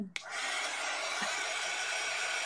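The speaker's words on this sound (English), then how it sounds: "grab your hair dryer and heat gun" A hair dryer switches on with a click and blows steadily with a loud, continuous whooshing roar.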